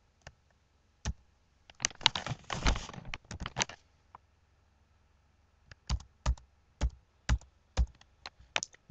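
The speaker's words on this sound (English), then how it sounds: "I type in motor." Computer keyboard keys clicking while a word is typed into PLC programming software: a dense flurry of quick taps, then a pause, then a slower run of single distinct keystrokes, close and fairly crisp.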